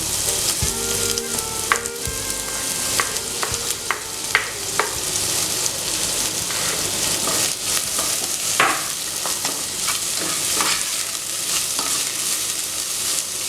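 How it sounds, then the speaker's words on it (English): Onions sautéing in a pan with a constant bright sizzle and repeated stirring clatter and scrapes, close and steady throughout with no talk. "We are sauteing our onions, so I'll just add my onions in."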